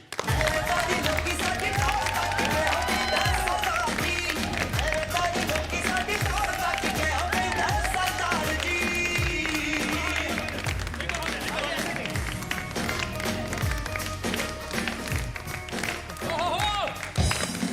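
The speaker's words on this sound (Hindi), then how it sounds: "जोरदार ताली से स्वागत कीजिए" Loud studio audience applause and cheering greet celebrity guests on a live bidding television game show, a sustained dense clapping wash under music and an excited host talking throughout.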